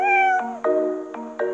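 A sad cat in the video game Snack Bar meows repeatedly, three or four drawn-out, plaintive cries in quick succession, loud and close over a thin electronic backing.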